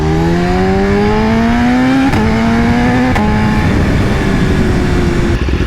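A BMW S1000RR motorcycle fitted with an Akrapovic exhaust runs close by, its loud, throaty engine note holding steady with small rises in pitch, alone with no talk.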